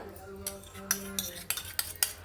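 Chicken kebab marinade with egg, garlic and ginger paste is mixed in a bowl, a quick series of close metallic clinks and scrapes from a spoon against the bowl under a faint background tone.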